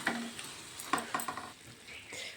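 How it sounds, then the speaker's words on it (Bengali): Boroi (jujube) achar with vinegar and ground spices being stirred in a pan: quiet scraping strokes and a few close clicks over a faint sizzle, with no voices. "একটু নেড়ে চেড়ে নিই"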